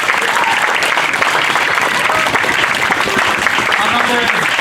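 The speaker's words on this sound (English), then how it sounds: "Let's give a round of applause." Audience applause at a high school graduation ceremony in Tonoas, loud, dense clapping that fills the whole stretch, with some voices mixed in beneath it.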